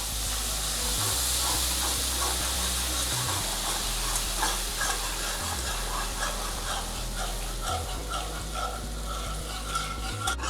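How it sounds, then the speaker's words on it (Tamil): A whisk stirs milk into roasted maida flour in a pan, a steady loud scraping and swishing with a hissing, sizzling wash over it, continuous and close with no talking. "கட்டி இல்லாமல் இது மாதிரி ஒரு விஸ்கை வச்சு நீங்கள் மிக்ஸ் பண்ணிக்கலாம்"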